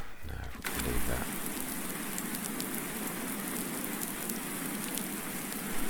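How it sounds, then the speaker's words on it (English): Steady rain falls in a farming simulation game, a dense, even hiss of droplets on surfaces that runs continuously after a brief low thump at the start. "if this carries on raining, it will clear the snow up"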